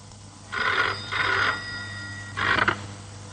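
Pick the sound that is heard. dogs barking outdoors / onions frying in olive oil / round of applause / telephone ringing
telephone ringing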